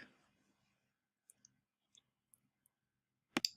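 Several sharp, faint mouse clicks tick out at irregular intervals in a quiet room, followed by a louder double click at the end.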